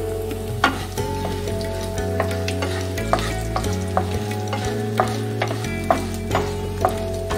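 Onions, cashews and green chillies fry for masala dosa filling, with a close, loud, steady sizzle and repeated rhythmic scrapes of a spoon stirring the pan.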